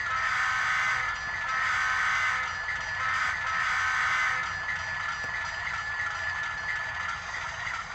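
A sustained electronic horn from a Blunami sound decoder in a Bowser RS-3 model diesel locomotive blares steadily for several seconds, loud and close, with a slight wavering in level and no talking.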